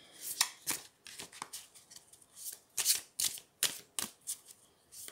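Tarot cards are cut and drawn from a deck, close and fairly faint, giving a string of crisp papery flicks and slaps in an irregular rhythm.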